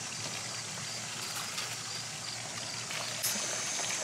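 Garden being watered by hand, a steady broadband hiss of water spraying and trickling onto plants that continues evenly and fairly close throughout, with a faint brief click near the end.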